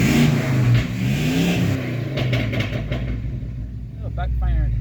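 A 1985 Chevrolet K20 truck engine, running slightly rich, revs loudly in a steady low rumble with a few sharp crackling pops near the end, as a person talks over it.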